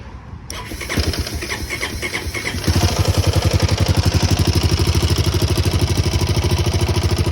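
A Honda Rancher ATV engine cranks and catches, then settles into a loud, steady idle close by, with a rapid, even ticking of the valves running through it.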